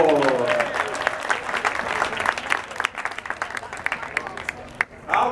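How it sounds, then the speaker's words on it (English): Audience applause at Merle Norman Stadium for USC athletic director Mike Bohn, a dense crackle of many clapping hands with cheering voices rising early on, holding steady for several seconds before a brief dip and swell at the end. "So let's give a big round of applause and bring up Mike Bohn."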